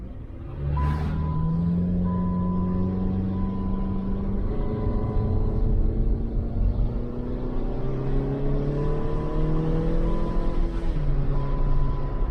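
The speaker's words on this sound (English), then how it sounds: "Got a car coming." A car approaches and passes along a road, a steady engine drone that swells and shifts in pitch over about twelve seconds, with no one talking.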